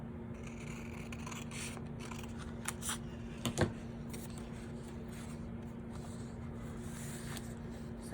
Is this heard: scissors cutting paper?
yes